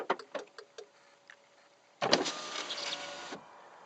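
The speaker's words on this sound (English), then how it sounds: "the windows will come down, and vice versa." Power windows on an MK6 Golf R lower after the key fob's unlock button is held. A few soft clicks come first, then a steady electric motor whine lasts over a second before cutting off.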